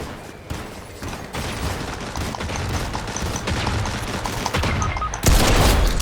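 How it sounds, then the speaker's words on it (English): Sustained rapid gunfire in the video game Fortnite, dense automatic bursts running continuously and loud, swelling into a heavier blast near the end, with no talk over it. "He's shooting some enemy."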